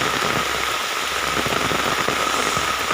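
Steady rain falls outdoors, a dense, even hiss of drops throughout with a faint low engine-like hum underneath and no talk.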